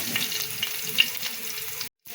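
Onion frying in a pan for a plain rohu fish and potato curry, a steady close sizzle with light crackles, stopping abruptly near the end before resuming briefly.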